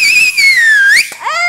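A person whistles a loud, clear sliding tone up close. The pitch drifts slowly downward, then breaks briefly before a final rising note.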